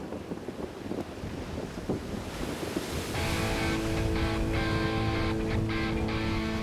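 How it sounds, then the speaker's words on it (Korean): Strong wind blows across a beach in southern Spain ahead of kite surfing, a loud steady roar of gusts buffeting the microphone over crashing surf, growing denser and more constant midway. "가만히 서 있기에도 꽤 거센 바람이 분다"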